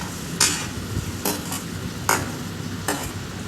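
Onion, curry leaves and coriander sautéing in hot oil for kuzhi paniyaram batter: a steady low sizzle with four brief scraping stir strokes of a spatula in the pan, close by, no talking.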